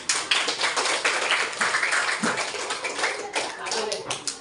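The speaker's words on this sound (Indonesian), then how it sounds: "tepuk tangan buat semua" A training-session audience claps in a dense, continuous patter of applause lasting several seconds, with voices murmuring underneath.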